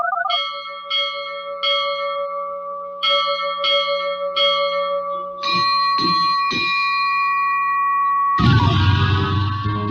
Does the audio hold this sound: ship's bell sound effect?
yes